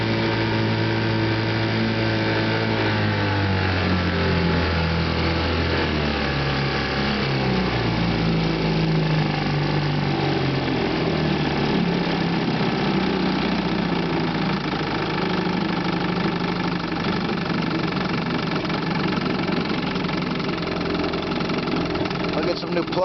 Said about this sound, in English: It's got to be the ignition misfire, but I'm suspecting a foul plug.